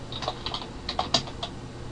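Computer keyboard typing while writing BBC BASIC code: a short burst of light, irregular key clicks, close and clear, with no talk.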